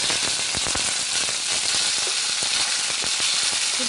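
Peanuts and tomato sizzle and fry in a pan while being stirred, a steady loud crackle with scraping stir strokes throughout, no talking.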